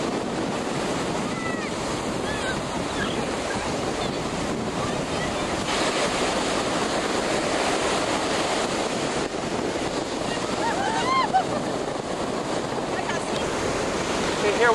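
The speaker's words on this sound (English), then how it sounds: "We're in on the ocean here. It's Assateague Island, and it's warm." Ocean surf rolls onto the beach at Assateague Island under gusting wind, a continuous loud wash with wind buffeting the microphone throughout.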